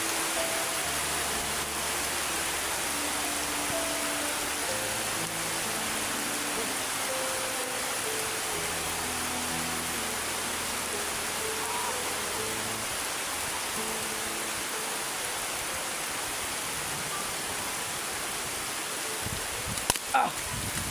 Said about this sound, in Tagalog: sobra pang lakas ng ulan